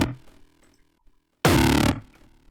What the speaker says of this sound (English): So that's just a hardstyle kick